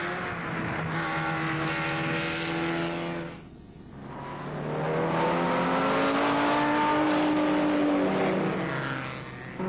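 A 1966 British-built clubman race car engine revs hard through the gears, its whine climbing, dipping briefly during a shift, then rising again loud and close.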